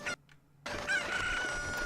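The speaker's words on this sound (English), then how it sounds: "pick up these chickens here" Chickens in The Legend of Zelda: Ocarina of Time cluck and crow loudly after a brief gap, the game's rooster calls sounding close and clear.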